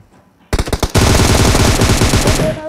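Shooter video game gunfire: a few separate loud shots, then a sustained rapid automatic burst lasting about two seconds, close and with no talk.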